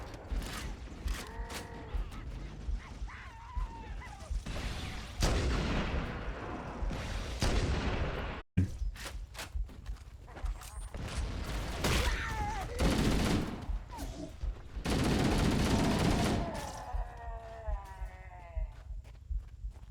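Weapon fire in Halo: Combat Evolved, a gun that hits like a shotgun and a sniper rifle at once, bursting out in loud broadband blasts among bleating, creature-like game noises and no talking.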